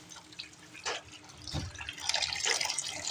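Water poured out during a hot water therapy session, a brief splashing gush in the middle with trickling, dripping liquid sounds continuing close by, no talking.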